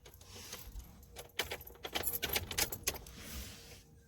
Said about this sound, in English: gotta put the key in